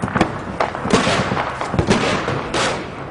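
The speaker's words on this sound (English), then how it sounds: "Mortars start to drop on the hillside." Mortar shells explode on a hillside in a Syrian conflict zone, sharp booming blasts landing several times in irregular succession, loud and echoing with a rumbling tail after each impact.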